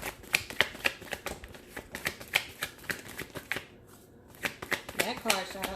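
A tarot card deck being shuffled, its rapid riffling clatters repeating close by in quick bursts with a short pause near the middle.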